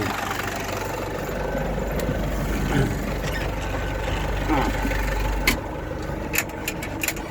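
A diesel tractor engine idles steadily in the foreground during spring barley sowing, a low continuous rumble, with a few clicks and knocks near the end.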